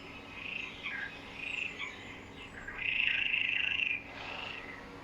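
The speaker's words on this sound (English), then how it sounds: "he amplifies his simple voice into a hoarse, broken, defiant croak" A chorus of Iberian water frogs in breeding season calls from the water surface, males inflating throat sacs for hoarse, broken croaks that rise into a louder, sustained burst midway before easing off.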